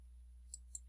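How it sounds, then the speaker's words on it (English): Computer mouse clicked twice in quick succession, two tiny sharp clicks close by over a faint steady hum, very quiet and with no voices. "then click on the Insert Image icon"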